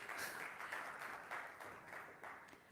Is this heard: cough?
no